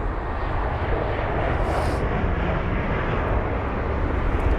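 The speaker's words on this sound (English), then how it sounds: "There's that Avianca jet just in front of us now." An Avianca jet airliner at London Heathrow produces a steady, loud roar of engines that fills the whole stretch without a break, with no voices over it.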